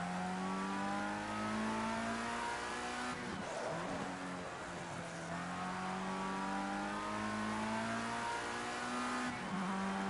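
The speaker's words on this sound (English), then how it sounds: "The tyres squeal." Tyres squeal on a race car in the video game Project Cars 2, layered over a loud, sustained engine whine that rises and drops through gear changes across the whole stretch.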